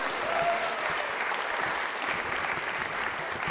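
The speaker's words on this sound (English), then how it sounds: "Yeah, you can applaud for that." An audience at a children's book author event applauds steadily, a dense wash of clapping that holds at an even level from start to finish.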